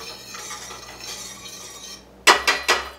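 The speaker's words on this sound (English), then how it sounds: "And just give it a little stir." Spoon stirring a mixture, a faint swishing scrape that ends in three quick, bright metallic clinks against the container, close and alone.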